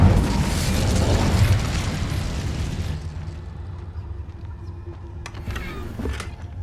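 An Incendio fire spell in Hogwarts Legacy erupts as a loud roaring, crackling burst of flame that swells and then settles into a lower rumbling hum, with a few faint clicks and whooshes trailing off.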